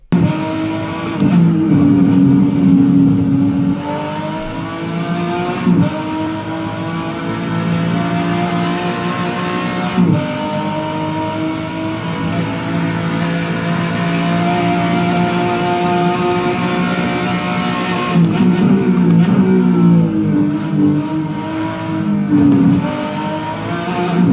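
A car engine in the RebelCars sim racing video game revs loudly and continuously, climbing and dropping in pitch through gear changes with a close, buzzing tone and no talking.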